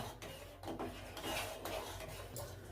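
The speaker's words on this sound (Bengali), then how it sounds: "এবার এটাকে খুব ভালো করে নাড়িয়ে নিতে হবে যাতে চিনিটা দুধের সঙ্গে গলে যায়।" A spoon stirs sugar into milk in a cup while making homemade coffee at home, giving a steady scraping, rubbing sound with a few clinks against the rim, close and fairly quiet, with no talking.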